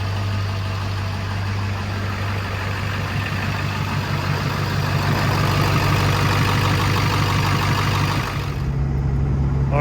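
A diesel truck engine idles steadily and loudly after new injectors and turbo work, a constant low rumble that holds even before dipping slightly near the end.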